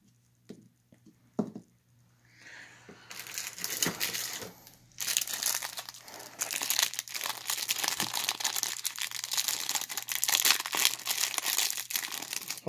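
Foil trading card packs for the Champions of Faith game are torn open and rustled, a sparse crinkle at first building into continuous close, loud crumpling and tearing of wrappers.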